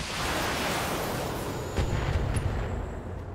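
Mech weapons firing in the BattleTech video game give a dense, roaring barrage like artillery, then a heavier booming thump lands partway through with rumbling impacts trailing after.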